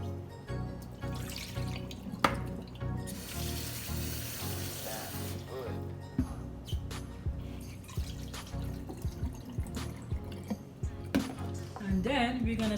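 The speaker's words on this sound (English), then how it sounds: "you're gonna wash your ground meat" Ground meat is rinsed in cold water at a kitchen sink, with tap water running and splashing alongside soft squishing and dripping, and kitchen sounds continuing throughout.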